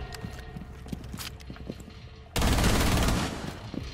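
Gunfire in the tactical shooter Rainbow Six Siege: a dense, loud burst of shots erupts partway through, following quieter scattered game sounds and footsteps-like clicks.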